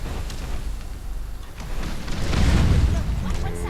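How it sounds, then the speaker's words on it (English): Bomb explosion in the video game Conan Exiles during a base raid, a broad low rumbling boom that swells and holds for a few seconds amid dense noisy debris. "Nice big explosion there."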